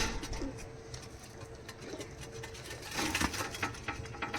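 Teddy pigeons in a loft coo softly in low repeated phrases against a busy, noisy background of rustling and shuffling.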